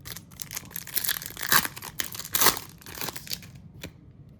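Foil wrapper of a 2026 Topps Chrome Series 2 trading card pack being ripped open, a close series of crinkly tearing and crackling bursts with louder rips in the middle, then a brief pause and a final crinkle.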